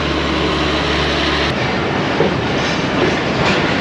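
A Mianwali Express train pulls out of Shaheenabad railway station, a loud, steady rumble of wheels and carriages close by, with a low engine drone that drops away partway and leaves a continuous rolling roar.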